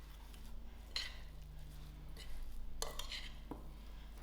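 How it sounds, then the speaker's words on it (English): Lamb mince with eggs, chops and steak spice and greens is mixed in a bowl, producing soft stirring and a few sharp clinks of a utensil against the dish, close and quiet, with no speech. "Now I'm going to give this a quick mix."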